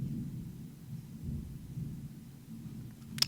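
Low thunder from an arriving storm rolls on steadily as a deep, continuous rumble that swells and eases, fairly faint and distant, with no voices.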